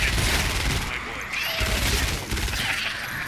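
Pistol gunfire in the Fortnite video game, bursts of shots crackling loudly under a continuous game soundscape while a person talks.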